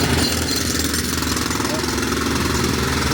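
A jackhammer rattles in rapid, steady bursts on a busy New York City street along 8th Avenue, loud and close amid engine rumble and traffic noise, with a voice faintly audible.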